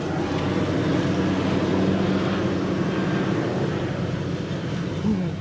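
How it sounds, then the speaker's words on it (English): An airplane passes overhead near swampy ground, a steady, fairly loud droning rumble with a faint whine that holds throughout, no talking. "The plane."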